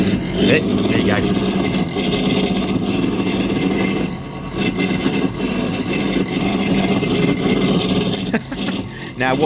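Cooling fan on a Series Land Rover running with the engine, a steady loud whirring drone with slight dips, someone talking over it.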